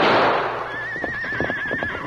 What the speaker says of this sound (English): Look, pack horse break loose.